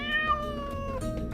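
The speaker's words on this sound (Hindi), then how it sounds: "ये बिल्ली की आवाज है।" A cat meowing once, a drawn-out tonal cry that slides gently downward, close and clear over a quiet background.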